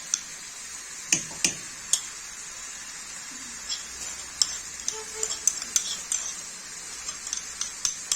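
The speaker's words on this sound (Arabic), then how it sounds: "كنبداو نحركو حتى كتمزج لينا المكونات" Spoon scraping and tapping in a pot while stirring a minced meat filling for savory turnovers, at an irregular pace, sharp clinks and clacks over a soft sizzle, close by.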